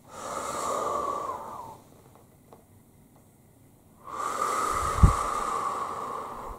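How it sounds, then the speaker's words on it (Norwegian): Slow, deep breaths drawn in and let out during a calm Norwegian relaxation session, two long airy breath sounds separated by a quiet pause, close and soft. "Og så skal vi puste inn igjen."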